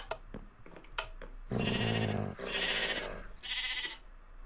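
Sheep in Minecraft bleats as a wolf attacks it, three loud wavering cries in a row after a few soft taps, with no talking.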